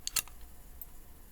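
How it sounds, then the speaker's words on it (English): Glasses dropped onto a floor give a few quick, light clicks and clatters close by, a brief cluster of sharp taps that fades fast into near silence. "That is the sound of my glasses hitting the floor."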